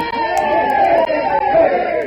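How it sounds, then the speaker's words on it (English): A crowd of rough townspeople raises a cheer in a radio drama, a dense, steady wash of many voices sustained without a break and fairly loud throughout. "a cheer rose from the rougher element of the town"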